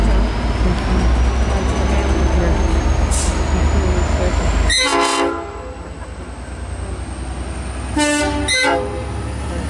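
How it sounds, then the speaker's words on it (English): Nathan P5 horn on V/Line locomotive N474 hauling SN16 and a PCJ van, blaring loud and close over the rumble of the passing train, with a second pair of short blasts a few seconds later. "Here goes N474. Yeah. There's Nathan Horns."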